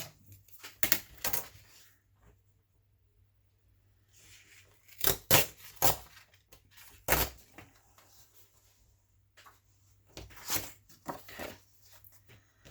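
Paper torn by hand during a window-pocket craft project, heard as several short, close ripping bursts in separate clusters with quiet gaps between them.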